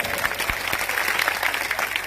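A crowd at a political speech gathering in Rajasthan claps loudly, a dense run of applause with sharper individual claps standing out, steady throughout and fairly close.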